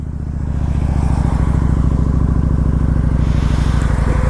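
Close by, a Kawasaki Vulcan 900 motorcycle engine starts up and settles into a loud, steady, pulsing idle.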